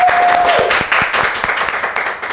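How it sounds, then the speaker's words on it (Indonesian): An audience applauds during an Indonesian talk show, and the crowd's clapping is fairly loud and brisk with scattered individual claps; a brief tone sounds at the start. "Tepuk tangan lo buat Tiento."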